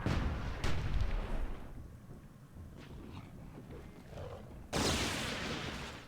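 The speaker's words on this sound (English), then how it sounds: "So now we see some Dwarven mortars going to work." Dwarven mortars fire in the strategy game Myth II Soulblighter. Heavy booming blasts land in rolling succession: a loud thump opens the sequence, rumbling explosions follow, and another strong blast comes near the end.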